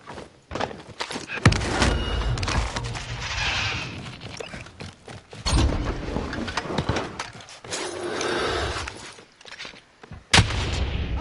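Gunfire in a PS4 shooter game, with scattered sharp bangs and heavy booms over mechanical rumbling and thuds, loud and close with uneven gaps between shots.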